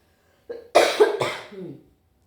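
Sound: cough

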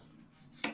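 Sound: chopping boiled pork tongue with a knife

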